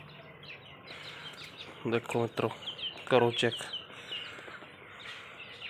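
Newly hatched pigeon chicks give thin, high chirps in short bursts close by, mixed with someone speaking Punjabi over them.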